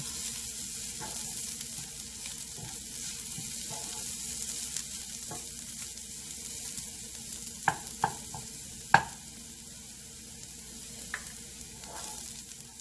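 Sesame seeds frying in a pan on a low flame give a steady, faint hiss and crackle, with occasional small pops and light clicks scattered through it, and no one speaking.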